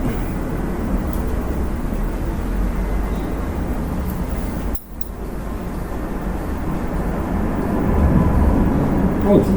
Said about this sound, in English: airplane out there.